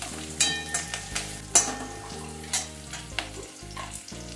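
Spring onions fry in hot, spattering oil with a little salt added, a close, steady sizzle punctuated by sharp pops and occasional stirring scrapes.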